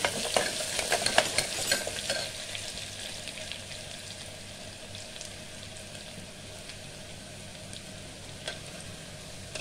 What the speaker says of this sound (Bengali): আমি কারি পাতা আর পেঁয়াজটা দিয়ে দিচ্ছি। আর আমি আদা রসুনের পেস্টটাও দিচ্ছি, ওর মধ্যে ফ্রাই হয়ে যাবে।